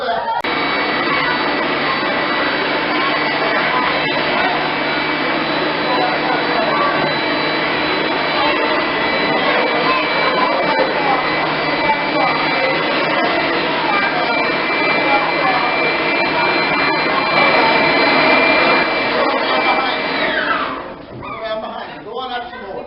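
An air blower fills an inflatable with a loud, steady droning hum that runs for about twenty seconds, then cuts off, leaving a few scattered knocks and rustles.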